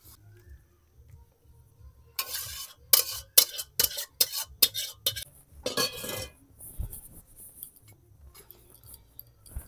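A spoon stirring sugar into doi potol curry in a pan, a quick run of scraping clinks against the metal, close and moderately loud, then settling into quiet.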